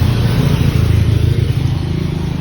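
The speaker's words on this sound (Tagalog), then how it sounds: "Mga sasakyan." Cars pass along a tree-lined road at night with streetlights, a steady low engine and tire rumble holding throughout without a clear single pass-by.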